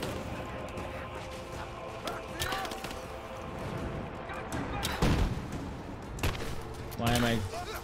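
Gunfire in Rise of the Tomb Raider, with repeated heavy shots and crashing impacts in uneven bursts during a helicopter fight, loud and close, with talk over the action.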